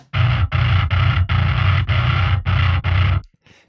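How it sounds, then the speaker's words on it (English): A heavily distorted bass guitar chugs through a series of loud, gritty notes in a steady rhythm, then cuts off abruptly. "one of my favorite bass tones of all time I have created"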